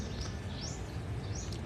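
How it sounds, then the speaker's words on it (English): Faint bird chirps and tweets outdoors, a few rising calls over a steady low background hum. "There's so many birds"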